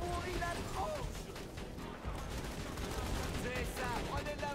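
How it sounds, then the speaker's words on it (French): Rapid machine gun fire in the shooter video game Borderlands 2, a dense continuous rattle of shots with explosive crashes, while a voice speaks over the din. "La mitrailleuse leur pourrit la tronche."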